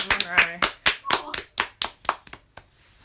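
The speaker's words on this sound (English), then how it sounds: "Everyone, round of applause for Monroe." A handful of people clap in a small, close group with a few distinct, uneven claps that thin out and stop after a few seconds, with voices chatting over the claps.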